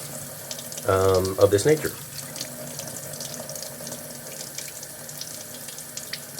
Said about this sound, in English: You want cold tap water running over the injury to extract as much